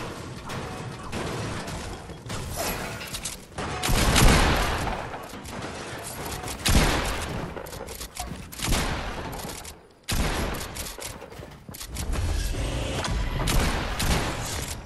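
Rapid bursts of gunfire in a multiplayer shooter, loud and close, sounding in repeated volleys with short pauses between them, mixed with clattering mechanical game effects.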